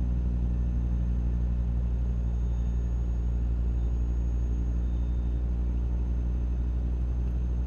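A truck engine in American Truck Simulator cruising at about 50 mph, a constant deep rumbling drone with a thin high whine above it, steady and loud throughout.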